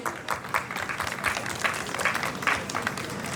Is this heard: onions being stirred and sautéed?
no